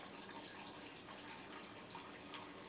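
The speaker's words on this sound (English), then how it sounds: "I'm going to put more water in it." Water running steadily into a container for a cold drink, a faint, continuous splashing trickle with no talk over it.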